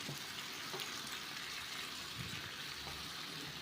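Potato and tomato pieces frying in a spiced tempering make a faint, continuous sizzle with light stirring scrapes, close but quiet and without voices.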